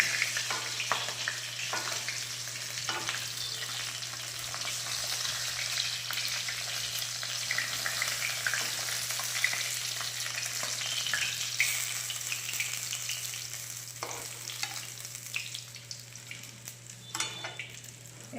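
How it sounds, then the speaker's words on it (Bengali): A ground spice paste with ginger-garlic paste fries in oil, giving a steady crackling sizzle with occasional scrape-and-stir knocks, alone without voices over a low steady hum. "এবারে এই তেলের উপরে দিয়ে দিলাম সেই বাটা মশলাটা, আর দিয়ে দিলাম আদা রসুন বাটা।"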